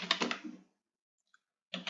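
Rapid clustered keystrokes on a computer keyboard while Python code is typed, a dense burst at the start, a pause with one faint tick, then a second burst at the end.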